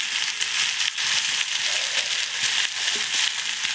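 Vegetables sizzle and crackle steadily in a hot wok as ginger, garlic, chili powder and turmeric are added, a loud continuous frying hiss with occasional stirring scrapes.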